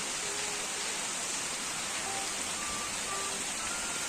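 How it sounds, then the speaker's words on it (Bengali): Heavy rain pours down at dawn, a broad, steady wash of noise like a downpour, constant and fairly soft from start to end, with no one speaking. "তো দেখো অঝোরে বৃষ্টি নেমেছে, প্রচুর বৃষ্টি নেমেছে।"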